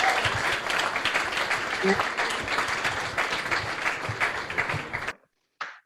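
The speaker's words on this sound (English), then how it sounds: "You get that extra round of applause." Applause fills the first five seconds for participants at a national final pitch night for climate startups, a dense steady clapping that cuts off abruptly, followed by a brief faint sound near the end.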